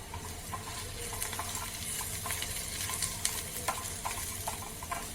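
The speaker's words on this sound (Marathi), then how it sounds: "या कांद्यासोबतच आपण आता सुकं खोबरंही भाजून घेणार आहे" Onions and dried coconut slices fry in a pan with a steady close sizzle, broken by the scrape and clink of a spoon stirring, no voices.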